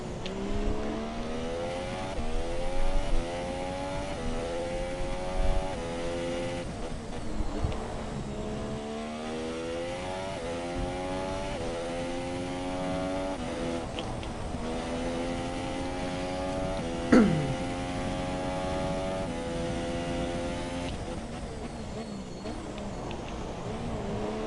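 Formula One car engines from the F1 2017 racing game, a continuous layered whine of several revving cars with rising and falling pitch as they shift gears, steady and fairly loud with one brief sharp downshift sweep.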